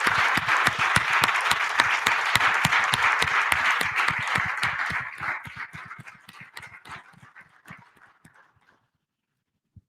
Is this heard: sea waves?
no